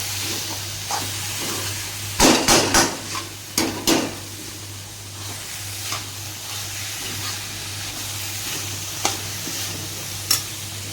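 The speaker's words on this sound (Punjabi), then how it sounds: "ਤੇ ਚੰਗੀ ਤਰ੍ਹਾਂ ਮਿਕਸ ਕਰ ਲਾਂਗੇ ਜੀ" Spices, red chilli powder and salt are stirred into stuffed bitter gourd masala in a hot pan, with a low sizzle under a burst of close scraping strokes, then sparser single scrapes.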